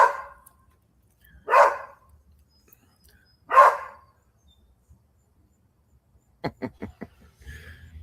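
Three single barks from a dog aimed at a squirrel in a morning yard, spaced about two seconds apart, then a quick run of faint clicks and light rustling.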